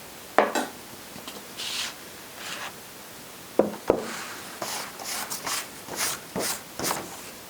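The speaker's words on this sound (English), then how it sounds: "So now what we're going to do is add our rosemary to the salt." Fresh rosemary tipped into salt and mixed through for a homemade infused salt blend, scattered close scraping, rubbing and light clinks against a bowl in short irregular bursts, no talking.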